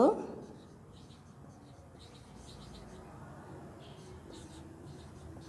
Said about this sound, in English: I am going to write down some statements for true and false.